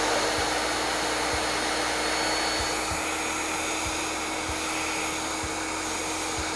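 A heat gun or hair dryer blows with a steady, loud, even whoosh while heating nitinol wire, with faint periodic low thumps running underneath the airflow.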